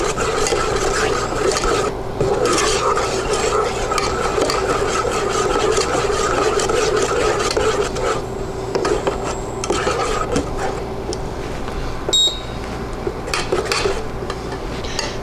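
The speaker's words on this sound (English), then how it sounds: "now I'm going to go ahead and mix in the sugar and pectin, returning it to a boil." Sugar and pectin are stirred into boiling jam in a pot, giving a continuous close scraping and rubbing of a spoon against the pan with small clinks, steady throughout.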